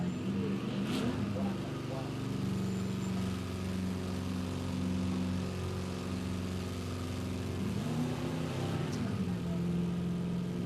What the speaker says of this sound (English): Says our throttle's jammed a little bit on Trevor Fox's Falcon.